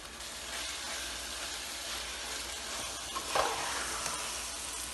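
Grated carrots for gajar ka halwa, cooked with cardamom, fry over fairly high heat, giving a steady, even sizzle that holds throughout, with one brief sharper crackle partway through and no voices.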